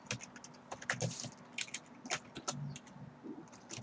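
Keyboard shortcuts typed on a computer keyboard while backing up saved web pages into dated folders: quick irregular bursts of close key clicks and taps, quiet and without speech.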